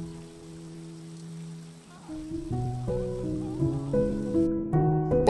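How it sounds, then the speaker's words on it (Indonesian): Steady hiss of rain falls on the open sea, heard beneath sustained musical tones that swell and grow busier partway through. "tiba-tiba saja hujan turun"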